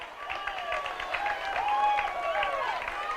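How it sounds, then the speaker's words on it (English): Clapping and scattered cheers from the Chapman sideline at a high school football game against Abilene, moderately distant, with crowd voices and whoops mixed over the rhythmic claps. "Hearing some clapping, some cheering on the Chapman sideline"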